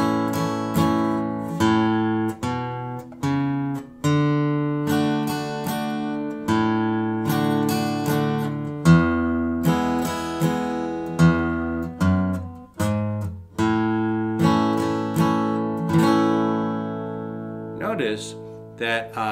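Acoustic guitar plays a country chord progression in A in three-quarter time, with chromatic bass notes walking between chords; clear, close and alone, bass note followed by two strummed chord hits in a steady waltz rhythm.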